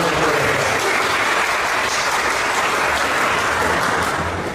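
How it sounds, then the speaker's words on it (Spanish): A crowd gives a speaker a loud round of applause at a theology debate. The clapping is dense and steady and holds at full strength for several seconds. "Un fuerte aplauso."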